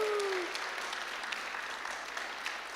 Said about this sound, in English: give a round of applause for Olga